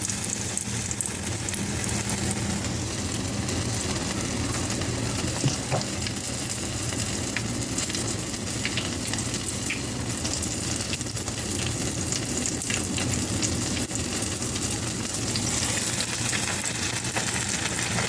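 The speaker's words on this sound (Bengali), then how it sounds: "মাছটাকে আমি ভেজে নেব।" Flour-coated Bombay duck (lote) fish fry in hot oil in a pan. A loud, continuous sizzle crackles close by without pause, and no one speaks.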